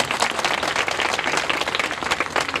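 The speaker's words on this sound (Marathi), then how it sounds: "त्यांच्यासाठी पण एकदा जोरदार टाळ्या वाजवा" An audience claps at a birthday felicitation event, a brisk, dense burst of applause from many hands, steady and fairly close throughout.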